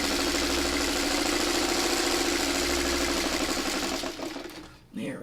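A sewing machine stitches a split quarter-square-triangle quilt block, running at a steady fast hum for about four seconds before slowing and stopping, followed by a brief handling noise.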